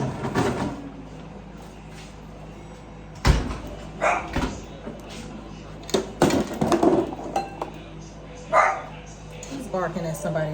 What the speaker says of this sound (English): He's barking at somebody outside.